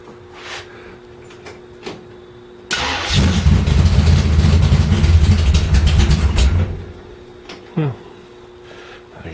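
A gasser car's engine catches and runs loudly and roughly for about four seconds before cutting out, with quiet surroundings before and after.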